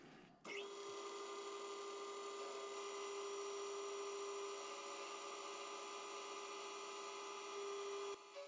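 A machine whines at a steady pitch while milling a triangle on a grinding wheel dresser, starting abruptly, holding a constant tone with faint harmonics, then cutting off near the end.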